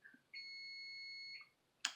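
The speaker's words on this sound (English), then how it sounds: "There goes my alarm." A single steady electronic alarm beep sounds for about a second in a quiet room, followed by a brief sharper chirp, with no talking.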